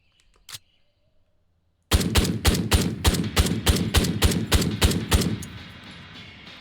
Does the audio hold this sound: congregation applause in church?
no